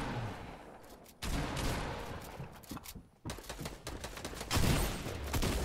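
Rapid Fortnite gunfire in bursts, fairly quiet and somewhat distant, with a short pause in the shooting before it picks up again.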